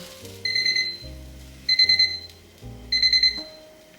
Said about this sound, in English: Air fryer just finished